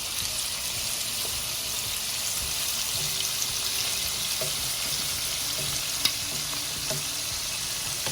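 Cajun shrimp fry in a hot pan with a loud, continuous hissing sizzle, broken by a few light taps and clicks as the pieces are turned over.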